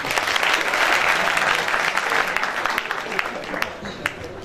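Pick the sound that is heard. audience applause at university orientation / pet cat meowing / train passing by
audience applause at university orientation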